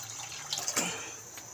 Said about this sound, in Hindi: ये अब हम पानी ऐड करेंगे इसमें